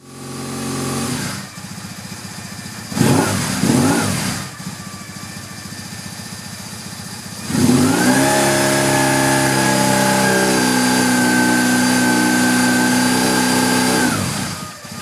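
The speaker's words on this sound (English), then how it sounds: "it was time to start the bike again and get it running up to temperature." A BMW R1150 GS motorcycle engine catches after a couple of short cranking bursts, then settles into a loud, steady running note, heard close and alone.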